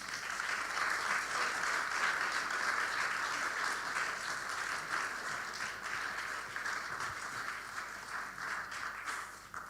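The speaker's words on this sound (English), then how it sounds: "So I invite you for a round of applause." Audience at an investment forum in Kyiv gives sustained applause, a dense steady wash of many hands that stays even and fairly distant for about ten seconds.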